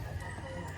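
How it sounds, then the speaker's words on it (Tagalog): Chickens on a rural provincial homestead in Del Monte, Bulacan, with clucking and crowing-like calls mixed into a steady, busy outdoor background over the short moment. "Daming manok dito."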